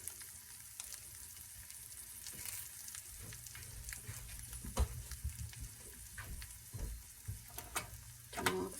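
Bacon frying in a pan crackles and spits steadily, close by, with sharper pops and a few light clinks and taps from cooking on top; no one speaks.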